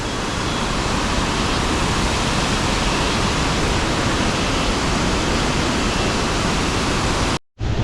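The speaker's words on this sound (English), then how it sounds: "There's a waterfall, significantly big, and a small over there." Monsoon waterfall in Charmadi in the Western Ghats, a loud, dense, unbroken roar of falling water that runs steadily throughout, briefly cut out near the end.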